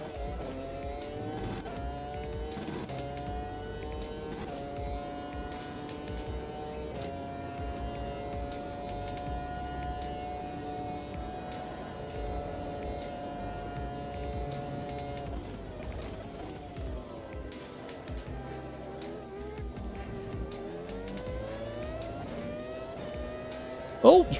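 Race car in Automobilista 2: a continuous, close engine drone holding steady pitch, dipping and climbing again as the car slows and accelerates, with brief tyre noise at the end.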